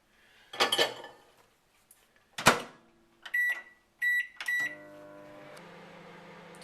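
Microwave oven thawing frozen Swedish sausage: a couple of sharp clunks from the door and buttons, a short series of electronic beeps, then a steady low hum as the oven runs, close by with no talking.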